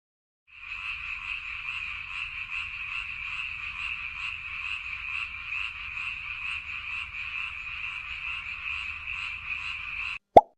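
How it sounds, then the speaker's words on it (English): A toad croaking in a steady, continuous rapid trill for about ten seconds, fairly loud and alone, ending with a brief sharp click. "Toad."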